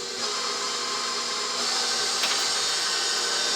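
A KitchenAid stand mixer's whisk beats banana and egg batter for cupcakes, a steady whirring motor hum with a bright metallic whisking hiss, continuous and fairly faint, without talking.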